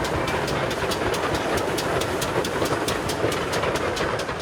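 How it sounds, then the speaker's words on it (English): A steam train approaches with a loud, continuous rumbling roar and a faint regular clicking pulse running through it, heard alone without voices. "it's great we've got a steam train coming"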